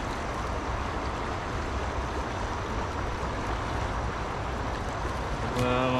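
A stream rushes steadily in an outdoor setting, a constant full wash of flowing water with no breaks, and a brief faint tonal sound near the very end.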